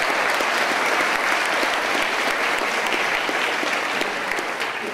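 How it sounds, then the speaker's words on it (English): An audience at a civic funding presentation gives a round of applause, a full, steady clatter of many hands that eases slightly in volume toward the close. "Let's give a round of applause to all of those funders."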